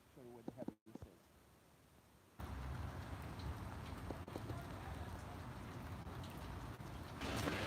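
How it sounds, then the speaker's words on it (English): Light rain falls ahead of a coming storm: a steady, dense hiss of drops that starts abruptly after a brief voice and low hum, then holds at an even level. "As you can see, we're getting some light rain right now."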